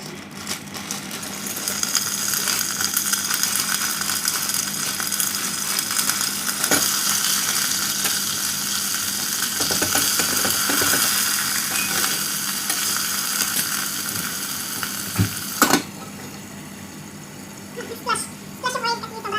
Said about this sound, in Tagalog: Ang lalagay ng green peas. Stir-fry ko siya.